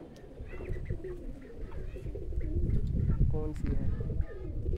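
A pigeon coos softly and intermittently while it is held in hand outdoors, with someone talking over it throughout at close range.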